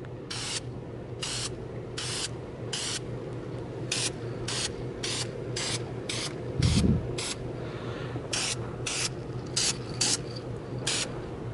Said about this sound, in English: we're going to go ahead and shoot some tack spray